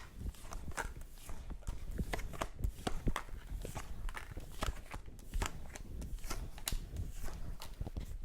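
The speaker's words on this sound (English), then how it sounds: "I only feel one good shuffle." Tarot cards riffle and slap in a quick series of crisp taps, repeated throughout with no voices.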